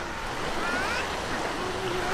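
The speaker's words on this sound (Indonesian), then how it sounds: "di sana ada pantai, ini ada muara" Surf washes in at a black-sand beach near an estuary at Teluk Sedayu, north Lombok, a continuous rushing wash with wind noise and faint distant sounds, no clear speech.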